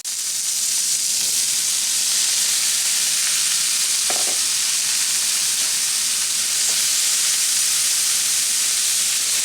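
Mushrooms and peas frying in a pan, a loud steady hiss and crackle of sizzling that holds throughout, with a few faint clicks of a utensil midway.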